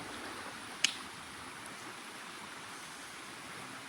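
A large, calm river in the Konkan area near Dapoli flows with a steady, soft, even rush throughout, broken only by a single faint click.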